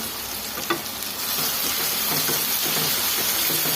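Capsicum rice frying in a pan, a steady broadband sizzle with scraping stirs of a spoon against the pan, one sharper clack near the start, continuous and close with no voices.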